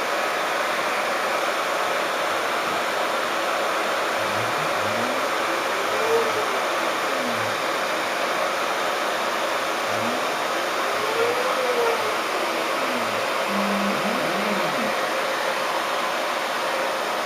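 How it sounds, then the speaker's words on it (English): Steady broadband whine of a CNC router spindle cutting wood stock, with no dust extraction running, holding loud and even throughout, with slow rising and falling tonal sweeps as the cutter moves through the material. "I'll be turning the speed on the router up a bit here."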